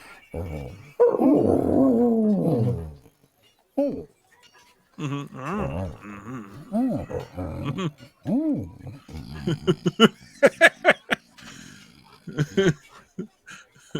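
A dog makes long, drawn-out groaning and whining vocalizations, like an upset husky, with wavering pitch, then shorter yips and grumbles in bursts, close and fairly loud.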